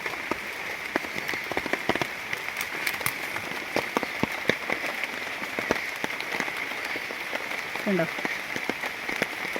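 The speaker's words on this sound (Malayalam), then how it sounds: "കണ്ടില്ലേ മഴ പെയ്തുകൊണ്ട്" Steady rain patters on a surface, with dense, continuous drops and occasional louder taps. A faint voice briefly rises near the end.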